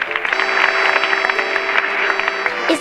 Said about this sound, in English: That applause was for you.